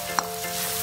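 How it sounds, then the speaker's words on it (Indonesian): Spring onions stirred into a salted squid and petai stir-fry, a single short scrape of the spatula over steady pan sizzle, close and fairly loud. "Ini kita aduk-aduk sampai bawang daunnya layu."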